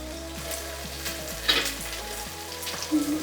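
A spoonful of ginger garlic paste hits cooked tomatoes in a pan for chicken pulao, giving a lively sizzle with a brief louder spatter burst. Background music plays throughout.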